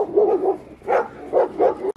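A dog barks nearby in short, loud bursts, about five barks in an uneven rhythm with brief pauses between them.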